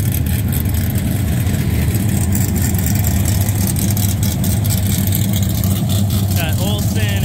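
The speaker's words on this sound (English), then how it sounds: "Oh, looks like we're starting. That's the first car out." Formula Drift race car engine at a pro drift event's pit and track area, a steady loud engine roar filling the whole stretch with some revving, mixed with crowd murmur and nearby talking.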